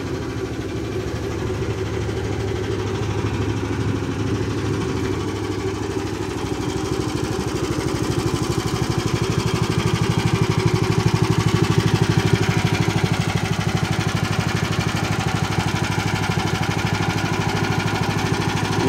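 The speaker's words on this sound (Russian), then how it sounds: "Сейчас двигатель будет проходить обкатку." Borus 18.5 hp all-terrain vehicle engine running during break-in, a steady, loud mid-pitched drone with a constant rhythmic pulse that swells somewhat partway through and then settles, heard alone without talk.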